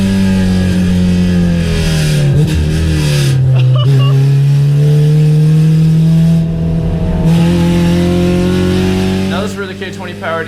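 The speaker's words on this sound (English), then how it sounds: "K20 powered EG Coupe pulls away the straights" A K20-powered Honda Civic EG coupe race car, built as a drag car, pulls hard down a road-course straight, its loud engine climbing in pitch through the gears with shift dips and another car's engine nearby.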